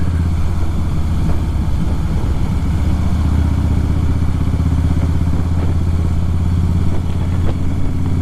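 A motorcycle with just 2,500 kilometers on it runs steadily, its engine holding a low, even throb close by for the whole stretch, with a little clatter mixed in and nobody talking.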